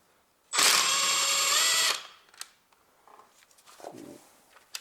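A power tool, a drill or impact driver turning a 10mm socket, loosens bolts on a 1.5-litre Toyota Prius engine from the 2002–2009 models. It makes one loud, close whir that lasts about a second and a half, followed by faint clinks and handling noises.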